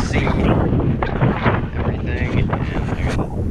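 Strong wind buffets a microphone outdoors on a farm, a loud continuous rumble with gusty swells throughout.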